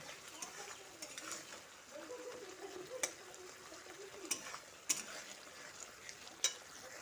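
Coriander powder is stirred into a tangra fish curry in a pan, giving faint, scattered scraping strokes over a soft, low sizzle, with a few sharper knocks from the utensil.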